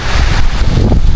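Strong gusty wind buffets the microphone at the seashore ahead of an approaching typhoon, a steady loud roar with low rumbling and no talk.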